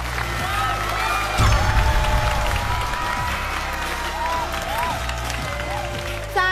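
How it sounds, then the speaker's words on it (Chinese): Audience applause and cheering at a masked dance competition show stage, a sustained wash of clapping with some whoops, steady and fairly loud, while a voice talks over it. "掌声"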